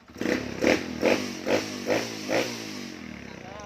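A rebuilt Honda MSX motorcycle engine is blipped in six short, evenly spaced revs, each rising and falling quickly over a low idle, heard close up.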